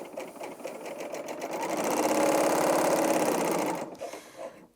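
A Bernina L860 overlocker stitches fabric, ramping up to full speed at about 1500 stitches per minute: a rapid, close mechanical whirring chatter that builds, holds steady, then winds down and stops.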